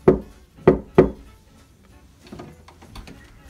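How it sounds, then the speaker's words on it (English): Three sharp knocks on a bedroom door, evenly spaced and close, followed by faint shuffling sounds. "Let's knock on her door."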